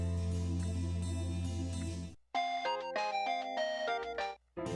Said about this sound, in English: Phone ringtone?